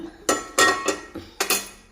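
Metal clanks and scrapes of a lid being lifted off a pot of fish peera cooking on low heat, several sharp close clinks in quick succession.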